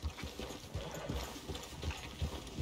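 Horse hooves clip-clop in Red Dead Redemption 2, a steady close trotting rhythm of soft thuds over quiet background ambience.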